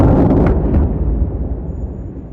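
A loud, close explosion from a strike on a Hezbollah weapons site in Lebanon, a heavy booming blast that rumbles and decays over a couple of seconds.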